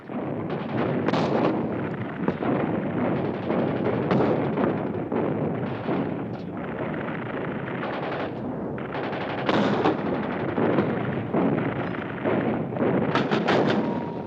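Heavy mortars fire in Egyptian army offensive combat, a dense, continuous roar of blasts and rumbling explosions with no clear gaps, loud throughout.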